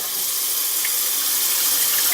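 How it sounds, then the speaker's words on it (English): Rinse water poured off washed rice for Jamaican rice and peas, a steady, close splashing gush that runs unbroken for about two seconds with no voices. "I throw off the water"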